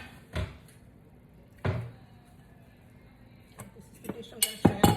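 Cupboard doors and dishes being handled while a baking dish is readied for a stuffed pork loin: a few separate thumps, then sharper clinks of dishware near the end, close by with quiet gaps between.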